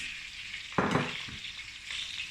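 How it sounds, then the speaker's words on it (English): Chopped onions hit hot oil with a sudden loud sizzle that settles into steady frying hiss, with a brief stir partway through; no one speaks. "then add my onions, chopped onions to it."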